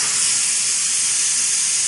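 Steam hisses loudly and steadily from a pressure cooker holding lentils during a quick release, a continuous close rush with no pauses or talk.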